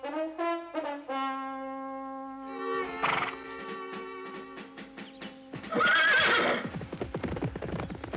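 A cartoon horse whinnies loudly in a long rising and falling neigh, followed by a second shorter whinny over rhythmic clip-clopping hooves.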